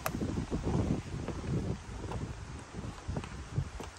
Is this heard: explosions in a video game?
no